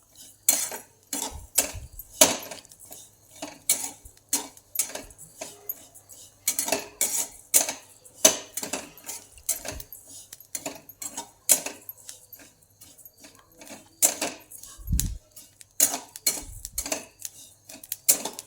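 Fennel seeds stirred in a pan, a continuous run of close, irregular metallic scrapes and taps of a spoon against the pan, loud and busy throughout.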